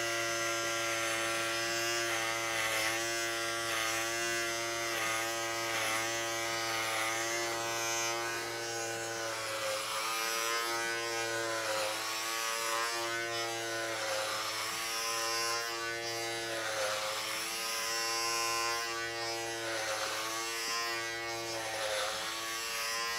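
A Philips Multigroom Series 5000 cordless trimmer cutting hair without a comb gives a steady close electric buzz throughout, with a slight wavering as it moves through the hair.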